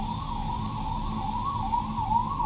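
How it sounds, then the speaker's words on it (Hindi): A wailing siren rising and falling steadily over a constant background rumble, moderately loud and continuous. "अरे सायरन क्या बज रहा है,"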